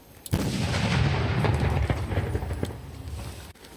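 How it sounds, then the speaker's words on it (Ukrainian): A sudden loud blast, likely a controlled detonation of explosive ordnance in Nikopol district, Ukraine, followed by a long rumbling roar that slowly fades over a few seconds, heard outdoors with no voices. "Вибух!"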